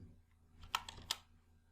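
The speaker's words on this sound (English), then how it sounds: "Press enter key." Keys on a computer keyboard are pressed a few times during spreadsheet data entry, giving soft, close clicks with two sharper taps, set against quiet background noise.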